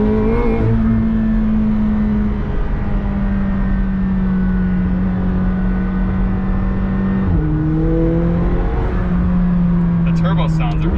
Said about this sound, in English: Turbo sounds are really cool.